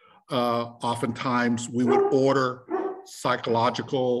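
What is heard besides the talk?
dogs barking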